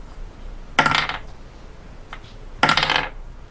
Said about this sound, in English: That's a lot of dice.